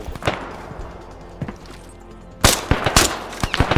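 Rapid bursts of gunfire from the shooter video game MGD, loud and close, with scattered shots early and then a dense, intense volley of repeated cracks in the second half.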